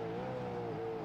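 Race car engine in the iRacing sim at Sandown, the driver clutching to save fuel, giving a steady, droning engine note that holds a level tone throughout with no talk over it.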